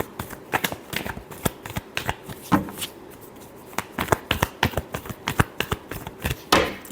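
Tarot cards are shuffled by hand in a quick run of crisp riffling bursts, close and fairly loud, with short pauses between flurries and no speech.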